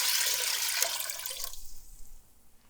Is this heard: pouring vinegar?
yes